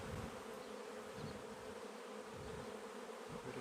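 Honeybees hum in a dense, continuous drone at an open hive during an inspection, close and steady without pause.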